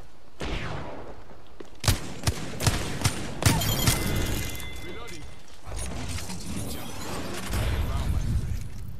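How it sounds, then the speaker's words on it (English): Gunfire in the video game Apex Legends, a rapid run of sharp shots and mechanical clatter over dense game noise, loud and close, with a voice talking over it. "I'm taking fire."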